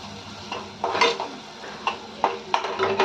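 Spice masala sautéed in oil in a pan before stuffed brinjals go in, a soft sizzle broken by several sharp spatula scrapes and clinks against the metal pan.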